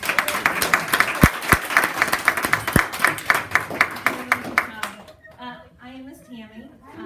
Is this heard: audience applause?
yes